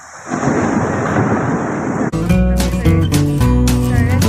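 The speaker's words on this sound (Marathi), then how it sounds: "पाऊस पडत आहे" A loud, rushing roar of monsoon heavy rain with rumbling thunder fills the first half, then cuts abruptly to music.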